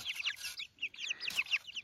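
Small white chicks cluck and cheep in quick bursts while pecking at fish worms in a rural yard, close and clear, with a short pause midway before the chatter resumes.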